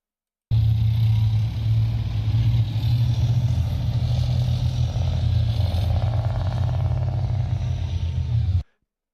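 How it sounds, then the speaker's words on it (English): A tank at Tank Fest moves past with a loud, steady low engine rumble and mechanical clatter, holding strong for about eight seconds before cutting off abruptly. "listen to the engine of the tank that passes after this vehicle"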